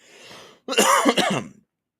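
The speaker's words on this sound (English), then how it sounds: "I have a cough too" A single close, sharp cough, preceded by a soft breath.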